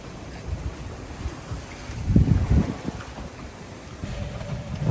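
Wind gusts across the microphone on a sailboat at sea, with choppy waves slapping and washing against the hull in an irregular rhythm, steady and fairly close, with no talking.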